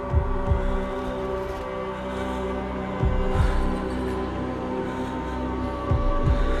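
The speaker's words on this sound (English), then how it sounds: "The heartbeat of the lost ones." A heartbeat effect from the video game Senua's Saga: Hellblade 2 sounds as deep, slow thumps spaced a few seconds apart over a constant low droning hum, with no voices.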